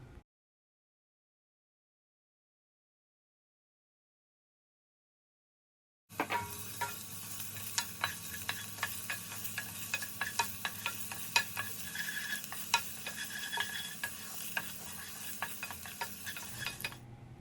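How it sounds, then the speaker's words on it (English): Garlic sizzles and fries in a pan for a honey garlic sauce while a utensil stirs it with quick scraping and tapping strokes, close and steady, after several seconds of silence. "Now we can add the garlic and mix it well."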